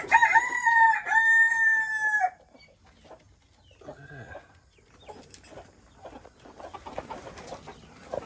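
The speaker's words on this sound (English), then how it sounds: "Oh, look at this chicken." A rooster on a rice field crab farm crows loudly and close for about two seconds, then quieter clucking and faint farmyard background follow.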